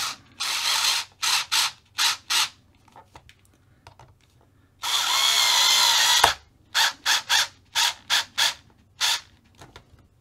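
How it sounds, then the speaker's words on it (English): Screwdriver fastening servo mounting screws on a Tamiya TT-02 RC car, a series of short sharp ratcheting clicks in irregular bursts with one longer grinding stretch in the middle, close and fairly loud, no talking. "we just need to screw these down"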